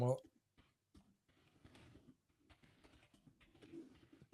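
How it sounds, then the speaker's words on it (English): Faint clicking of a computer keyboard, a loose patter of key taps at a distance, with a louder thump at the start and some quiet talk in the background. "I was just typing"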